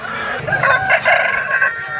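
Rooster crowing at a Sunday hen market in Pileru, a loud close call of sustained rising and falling notes over a busy background of other fowl and market noise.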